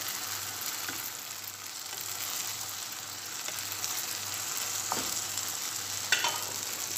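Bitter gourd with eggs sautés in a pan with a steady, quiet sizzle. A few faint scrapes and clicks of a utensil sound against it, with no talking.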